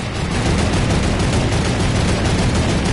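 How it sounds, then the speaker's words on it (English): Dense, continuous gunfire from a Fortnite match, a sustained loud barrage of overlapping shots filling the whole stretch with no gaps and no talk. "I'm shooting."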